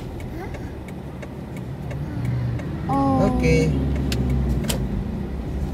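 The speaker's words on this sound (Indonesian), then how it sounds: "Wow, ada angkot berhenti di depan KFC." An angkot minibus pulls up and idles in front of a KFC in Kampung Solor, Kupang, its engine rumbling close by with a rising whine midway, while a few brief voices speak over it.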